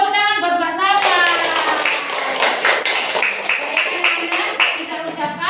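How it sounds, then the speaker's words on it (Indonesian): Children in a primary school classroom clap their hands in quick rhythmic bursts while their voices chant along close by. "Tepuk tangan buat Mbak Safa."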